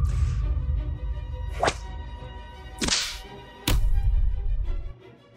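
Sharp whip cracks in a period martial-arts drama, three distinct lashes about a second apart over a dense low rumble of scene ambience.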